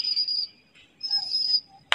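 Someone whistles loudly outdoors while flying pigeons, giving two sustained shrill piercing whistles with a short pause between them and a brief sharp click at the end.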